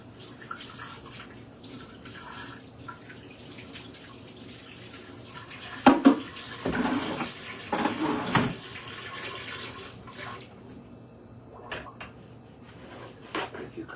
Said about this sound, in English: Let me wash this fork out,